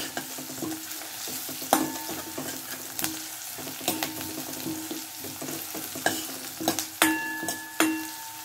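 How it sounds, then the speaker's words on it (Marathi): Onion sizzling steadily in a frying pan until it turns pink, with a constant hiss broken by occasional scrapes and clinks of stirring. "कांदा सगळा गुलाबी रंगावरती परतून घ्यायचा आहे"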